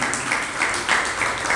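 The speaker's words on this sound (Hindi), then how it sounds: "ताली दो ही में बजाइए आप" An audience at a spiritual discourse claps together, a steady wash of applause sustained at fairly even loudness throughout.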